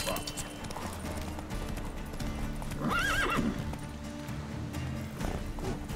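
A horse in the video game The Witcher 3 gallops with steady clip-clop hoofbeats and lets out a loud, wavering neigh midway, mixed with game combat sounds and someone talking over it.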